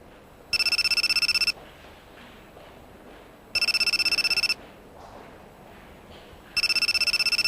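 A mobile phone rings in three evenly spaced bursts, each a bright warbling electronic tone about a second long, loud and near, with quieter background sound in the pauses.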